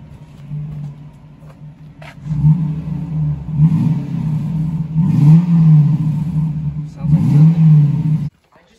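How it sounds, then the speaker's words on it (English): A Lexus LS400 engine with both mufflers removed revs up loudly three times to about 2,000 rpm, each rising roar falling back to a rough, throaty idle before cutting off. "Both mufflers have officially been chopped. We're gonna get. Pretty quiet. Give it a give it a 2K rev."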